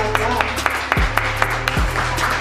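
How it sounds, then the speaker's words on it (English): Scattered clapping from a small audience at a men's discussion gathering, a few sharp separate claps over a low steady hum, with a couple of brief low thuds, fairly close and not building into full applause. "Y'all clap it up. Clap it up."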